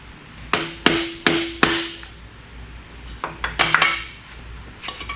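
A hammer taps near an engine's crank pulley during a junkyard engine teardown: a series of sharp metallic ringing strikes, several evenly spaced, a pause, then a quicker cluster of lighter taps, close and loud.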